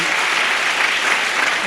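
A church congregation at a fasting prayer session claps for God together, a loud dense burst of applause filling the space with a faint voice underneath.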